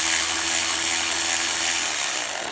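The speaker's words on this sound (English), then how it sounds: "we're gonna unscrew it all the way out" Bolt being unscrewed during alternator removal on a 2006 Kia Rio, a steady loud rasping, grinding tool noise running continuously without pauses or talk.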